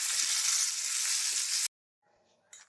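Dried red chillies, six or seven of them, sizzle and fry in hot coconut oil for a mulaku chammanthi, a loud steady crackle that cuts off abruptly, followed by faint stirring and a brief burst of sizzle.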